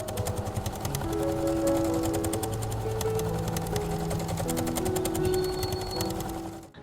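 Sewing machine stitching a denim pocket onto a hobo bag, a steady fast mechanical whir with rapid needle clatter running continuously for several seconds, close and alone.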